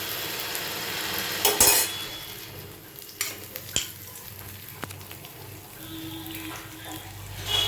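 Grated coconut and semolina being fried and stirred in a pan, a soft, low sizzle under repeated spatula scrapes and clinks, with a few sharper metallic taps along the way.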